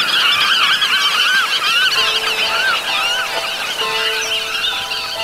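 Snipes and godwits give agitated, overlapping alarm calls in a Polish marsh, a loud continuous chorus of shrill, wavering cries with no pause throughout.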